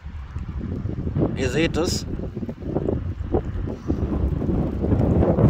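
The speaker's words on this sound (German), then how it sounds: "Da kommt auf jeden Fall gut Wind mit bei rum." Strong gusting wind during a thunderstorm in Kreis Viersen, NRW, roars across the microphone in a steady loud rush, with a person speaking briefly over it.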